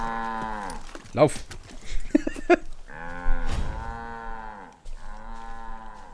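Cows in the Far Cry 5 video game mooing several times: long, close, drawn-out lowing calls separated by short thumps, with a brief spoken word in the middle.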